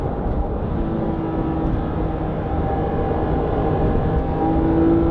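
Engine of a Porsche 997 GT3 RS 4.0 while driving, a steady loud drone with a continuous tonal note held throughout, heard from inside with no talk over it.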